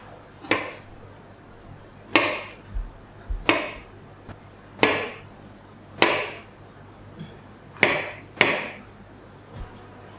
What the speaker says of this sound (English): Now, cut the mushroom.